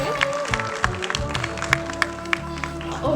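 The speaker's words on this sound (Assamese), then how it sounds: "ছাত্ৰ ছাত্ৰীসকলে ছাৰহঁতৰ কাৰণে এটলিষ্ট নিজৰ কলেজখিনি অলপ ভালকৈ হাত চাপৰি এটা দিব লাগে" An audience of students claps for guest teachers at an International Women's Day college function, a scattered, uneven patter of hand claps with brief voices mixed in.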